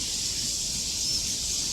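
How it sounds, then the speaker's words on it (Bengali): Crickets in a forest on a hillside temple site in Taipei make a dense, unbroken high-pitched drone that holds steady and fills the background, with no voices. "আর প্রচুর ঝিঝি পোকা ডাকছে"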